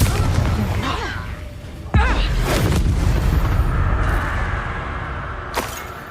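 Fiery Confringo spell blasts burst in combat in Hogwarts Legacy, a loud boom with a sharp onset followed by rumbling decay and a later smaller pop, while a voice calls out spell names over the fight.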